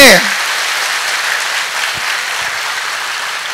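Loud, continuous crowd applause at a Marathi comedy speech in Maharashtra; dense clapping rises right after a brief voice at the start and holds steadily to the end.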